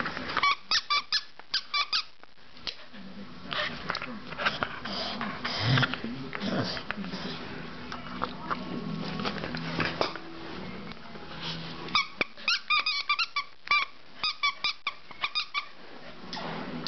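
Corgi playing with a squeaky horse toy indoors: rapid bursts of sharp squeaks in quick series at the start and end, with sniffing and snuffling between and a person talking quietly.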